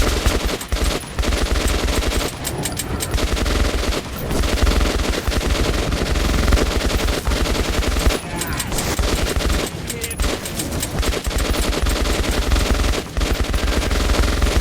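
Heavy automatic gunfire from a firefight in the Metro 2033 Redux video game roars almost without pause, with dense, loud bursts and overlapping shots that fill the whole stretch.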